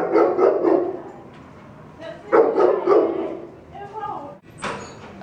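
Several dogs barking and yipping in short bursts while play-fighting, loud and close, with a door-like slam near the end and people talking in between.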